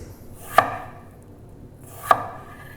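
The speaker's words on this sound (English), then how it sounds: "I put the flat sides down, and then I make like 1 centimeter slices like this" Two separate knife cuts through a vegetable being sliced into 1 cm slices, each a sharp, close chop against a board, spaced about a second and a half apart, with quiet between them.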